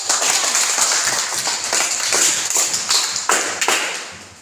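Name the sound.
classroom students clapping hands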